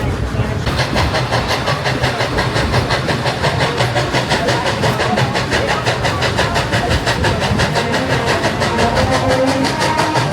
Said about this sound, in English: as we ride the train this evening